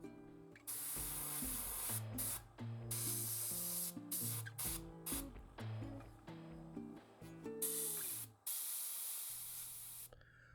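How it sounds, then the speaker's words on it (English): An airbrush sprays paint onto a model in repeated bursts of close, bright hissing that start and stop, over a steady background of soft instrumental music. "the airbrush is an effective tool for setting large areas of color"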